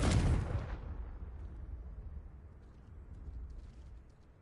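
A Confringo fire spell bursts in Hogwarts Legacy with a loud booming explosion at the start, its rumble fading into a low, drawn-out tail.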